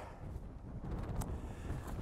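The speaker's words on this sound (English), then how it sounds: "the wind's getting stronger and stronger" Strong wind gusts across an exposed hilltop, producing a steady roaring rush with buffeting on the microphone and no voices.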